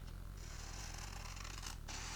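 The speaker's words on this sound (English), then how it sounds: "I'm going to cut off the edge because it is definitely bigger." Scissors trimming the edge off a paper sheet in a workbook: two close, crisp snipping cuts with a brief pause between them, over a faint low background hum and no voices.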